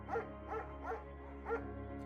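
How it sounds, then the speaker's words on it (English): German Shepherd named Mayhem in Firewatch gives four evenly spaced, moderate barks over a low steady game ambience, with no talk. "There's also an intimidating but gentle-eyed German Shepherd."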